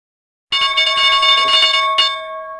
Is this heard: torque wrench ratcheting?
no